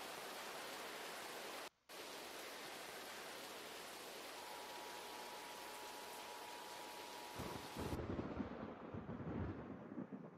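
A thunderstorm rages in the Roblox game Twisted, heavy rain hissing as a dense, steady wash with a brief dropout near two seconds, then a deep rumbling swell of thunder toward the end; no one talks.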